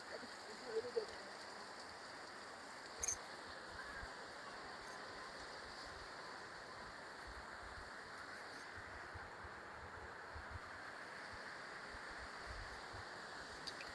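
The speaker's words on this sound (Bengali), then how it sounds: "অনেক জোরে বৃষ্টি হচ্ছে।" Heavy rain pours down in a steady, dense roar, with a few faint knocks near the start.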